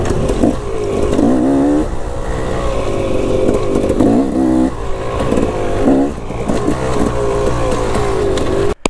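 A KTM motorcycle engine roars loud and close while riding, revving up and down in repeated surges with shifting pitch, constant engine noise throughout and no talking.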